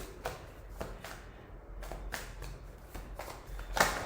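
Tarot cards are shuffled by hand in a series of quick, riffling bursts, repeating roughly every half second, close and moderately quiet with no voices.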